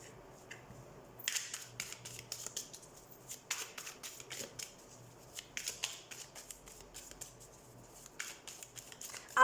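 Tarot cards being shuffled by hand, repeated quick riffling bursts and flicks of card stock, close and crisp, separated by short quiet gaps over a faint low hum.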